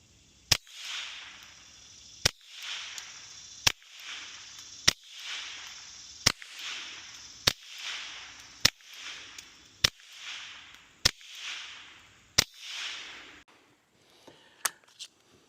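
Suppressed Ruger Mark IV 22/45 pistol firing 40-grain Velocitor rounds: about ten sharp, quiet snaps at a steady pace, each trailed by a brief hiss, followed by a few faint clicks.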